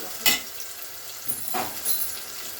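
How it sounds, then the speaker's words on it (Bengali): Onions fry in a pan for a Bengali potato and meat curry, a soft sizzle broken by a few sharp stirring scrapes and clinks of the spatula, close up with no talking. "পেঁয়াজটা দিয়ে মারিয়ে নিচ্ছি এইভাবে"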